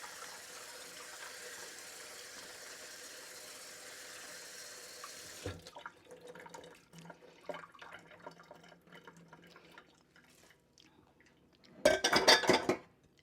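Shrimp rinsed in cold water at a kitchen sink: quiet clinks and handling of dishes and utensils, then a short loud burst of running tap water near the end.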